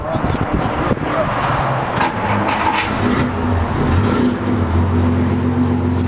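A 1952 Plymouth Cranbrook engine with split exhaust cranks and catches, settling into a steady low idle rumble, close by with a voice talking over it.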